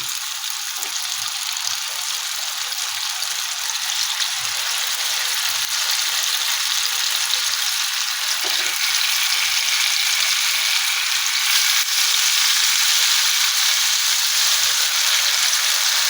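Spice-marinated chicken pieces fry in a pan over high heat, producing a loud, continuous sizzle that stays steady from start to finish with no talking.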